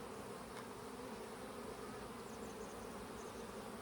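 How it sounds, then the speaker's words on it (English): Honey bees buzz densely on a hive frame during queen-rearing preparation, a loud, continuous swarm drone with no voices. "I'll just shake all of these bees"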